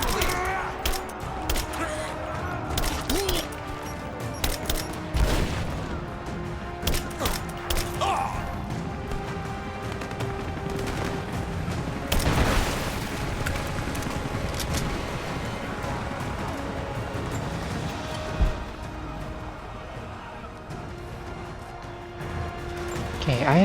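Gunfire and explosions in a Rise of the Tomb Raider battle: sharp shots, crashes and thuds scattered throughout, loud and close, mixed with shouting voices and game noise.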